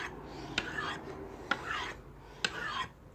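An Esee 5 knife blade drawn across a sharpening stone, three long rasping strokes each starting with a sharp scrape, close and clear with no talk.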